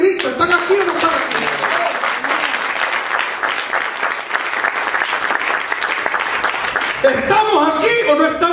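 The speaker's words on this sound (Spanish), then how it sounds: "Dale un aplauso a Cristo." A church congregation applauds loudly and steadily for several seconds during a Spanish-language sermon, with a preacher's amplified voice rising over the clapping at the start and again near the end.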